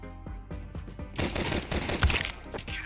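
Glock pistol fire in Counter-Strike, a rapid string of sharp shots at first, then denser overlapping gunfire and an explosive burst, moderately loud within game audio.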